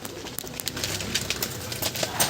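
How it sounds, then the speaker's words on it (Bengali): A crowd of domestic pigeons cooing together, a dense, steady murmur of low coos heard up close with no voices over it. "এখানে প্রচুর পায়রা আছে"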